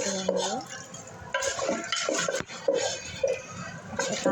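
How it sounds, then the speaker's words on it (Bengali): A wooden spatula scrapes and stirs beef with spice paste in a pot, giving repeated rough scraping and clattering strokes with small knocks. A voice talks intermittently over the stirring. "একটা কাঠের খুন্তি দিয়ে আমি নাড়িয়ে চাড়িয়ে খুব সুন্দর করে মিক্স করে নেব।"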